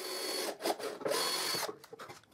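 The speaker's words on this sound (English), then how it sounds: "Then I drill guide holes" A power drill whirs in short bursts into wood, starting and stopping a few times at moderate volume.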